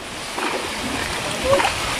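Floodwater rushes and splashes in a steady broadband wash around a home, with sloshing surges, and a person's voice is faintly mixed in.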